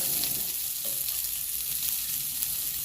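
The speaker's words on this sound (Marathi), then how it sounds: "तर आता आपण मटण फ्राय बनवायला चालू केलं आहे" Mutton fry with fried onion and khoa butter sizzles steadily in a hot pan, a continuous close hiss with faint stirring and no talk.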